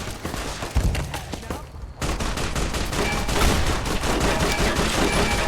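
Rapid rifle gunfire in the Fallout: New Vegas game, dense continuous volleys of shots with a short pause before a sustained loud burst, close and heavy.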